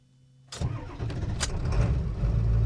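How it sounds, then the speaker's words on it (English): An old diesel engine turning over from a dead cold start, with the ignition and glow plugs on, catches abruptly and settles into a loud, rough, clattering idle up close, with no talking. "from a dead cold start, ignition on, glow plugs on."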